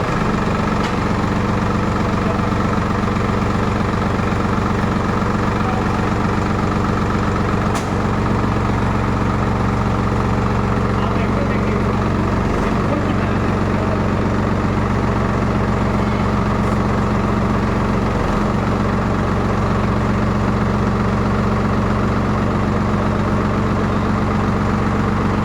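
A Solis Yanmar tractor engine idles steadily nearby, a low continuous diesel rumble with constant vibration and no break across the whole stretch.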